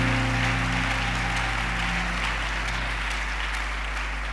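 A church congregation clapping and cheering in praise to God, a broad sustained wash of applause with a low musical drone underneath, fairly loud and fading slightly toward the end.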